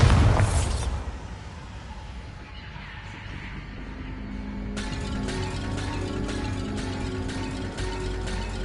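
A Bombarda blasting spell explodes in Hogwarts Legacy with a loud boom that fades into rumbling debris, followed by a steady mechanical rattling and droning background.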